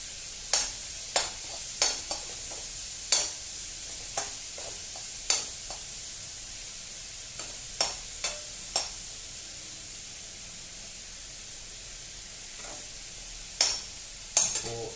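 Ginger and garlic fry in a pan with a constant soft sizzling hiss, broken by a dozen or so crisp scraping clicks from a stirring utensil, close and steady, with no voices.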